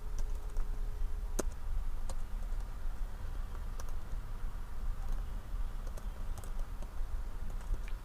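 Typing a SQL create table command on a computer keyboard: scattered close key clicks and taps at an uneven pace, with occasional sharper clacks and no speech.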